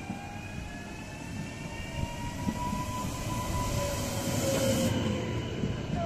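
An ŁKA commuter train passes the Pabianicka stop in Łódź with a steady rolling rumble and a faint high whine that swells toward the end, and no voices.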